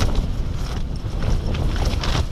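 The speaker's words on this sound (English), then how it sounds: "The big side of the tent's got the full force of the wind." Strong gusting wind batters the broad side of a Terra Nova Southern Cross 2 tent at a wild camp in Scotland, a constant loud roar with flapping fabric and rumbling buffets and no pause.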